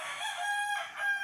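A rooster crows at a backyard chicken coop, one sustained, fairly loud call standing alone with no voices over it.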